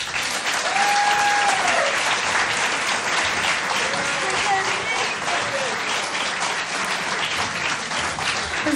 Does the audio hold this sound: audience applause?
yes